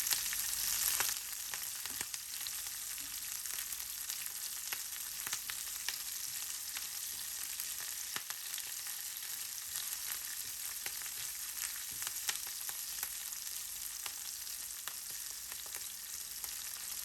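Green chilies fry on low heat in a pan, a soft continuous sizzle with faint crackles throughout, steady and unbroken with no talking.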